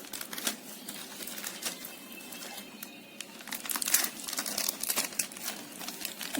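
Syringe packaging being torn open by hand, a run of close, crisp crinkles and rips in irregular bursts that grow louder toward the end.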